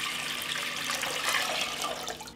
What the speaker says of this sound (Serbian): U jednu šerpu sipat ću litar vode.